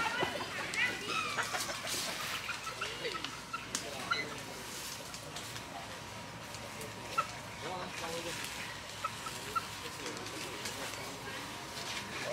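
Chickens cluck and murmur in a pen beside a jungle trail in Tayrona National Park, Colombia, scattered short calls rising over rustling and outdoor background noise, with people talking nearby at times.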